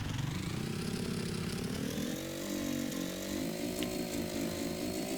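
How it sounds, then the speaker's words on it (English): A rock crawler's engine in the GearBlocks video game runs continuously, a buzzing, chainsaw-like drone that holds steady and climbs slightly in pitch, with no talking. "Let's get the engine started again."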